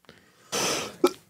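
A single person coughs once, a short harsh burst with a throaty rasp, preceded by a faint breath and ending in a sharp catch, close to the microphone and alone.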